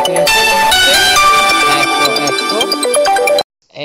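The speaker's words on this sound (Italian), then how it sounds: "E te pareva, ci sono anche le telefonate." A telephone ringtone plays loud and close as a bright repeating electronic melody, interrupting an Italian live broadcast, then cuts off abruptly near the end.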